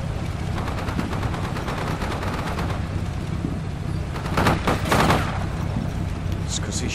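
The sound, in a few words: gunfire in the video game Combat Mission: Shock Force 2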